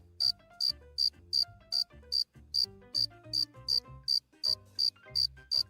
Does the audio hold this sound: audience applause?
no